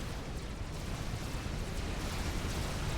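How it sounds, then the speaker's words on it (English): A nuke strike and artillery barrage in the strategy game Supreme Commander make a dense, continuous rumbling roar of explosions, loud and sustained across the whole stretch with no clear gaps between blasts. "He's going after Plunder with the nuke and the artillery."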